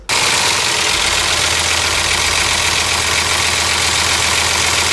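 A damaged 4.7-liter engine in a 2002 Dodge Ram 1500 runs close and loud at a steady idle, its rough drone carrying a rattling, uneven clatter of loose internal parts.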